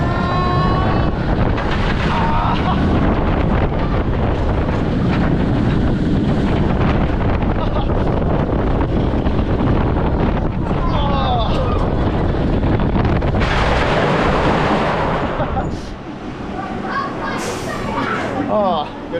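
Wipeout roller coaster running backwards, with loud wind rushing over the microphone throughout, mixed with riders' shouts and voices, easing slightly near the end.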